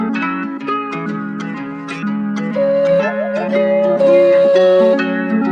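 Plucked guitar chords repeat in a bouncy rhythm while a sustained flute melody enters halfway and carries over them, clear and up front.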